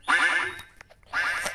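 Two nasal quacks from a cartoon duck in a video game, close and clear, with a short gap between them and a few soft clicks in that gap.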